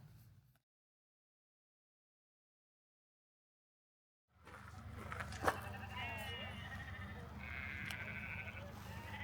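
Sheep bleat outdoors in the Icelandic countryside near Djúpivogur. After a stretch of silence, several wavering bleats come through wind and background noise, with people talking nearby.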